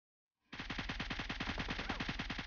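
Automatic gunfire in the video game PUBG Mobile: a sudden start after silence into a fast, even burst of rapid shots lasting about two seconds, loud and sustained, with no talking.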